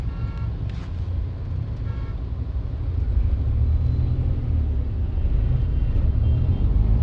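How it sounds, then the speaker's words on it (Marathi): Heavy road traffic at Chandani Chowk in Pune: a dense, continuous low rumble of engines with a faint horn toot early on, heard steadily from among the vehicles. "पुण्यात चांदणी चौकात एवढं प्रचंड ट्रॅफिक आहे."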